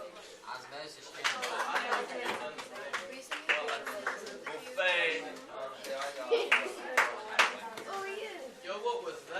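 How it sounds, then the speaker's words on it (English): Hands clap in a high school biology classroom during a gel electrophoresis lab: a scattered series of sharp, close claps mixed with students chattering and talking throughout. "I was clapping."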